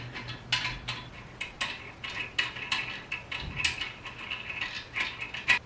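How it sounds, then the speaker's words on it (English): Nuts being tightened to secure a toilet tank to the bowl, heard as a run of close, rhythmic metallic ratcheting clicks in short bursts with small pauses, with no talk. "Be careful to tighten the nuts just enough to secure our tank without cracking the bowl and the tank."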